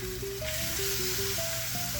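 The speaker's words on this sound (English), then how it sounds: "Now I'm getting started on our taco skillet bake. So I'm adding in a couple pounds of ground beef" Ground beef, a couple of pounds, sizzles steadily in a hot skillet for a taco skillet bake, a continuous close frying hiss with faint background tones and no talking.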